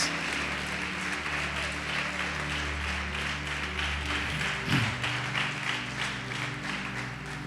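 Church congregation applauding in praise, a steady wash of clapping layered over a sustained musical drone, with a faint voice briefly rising midway.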